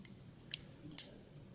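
The parts of a TackLife 13-in-1 multi tool snap into place with two sharp, close clicks about half a second apart over a quiet background.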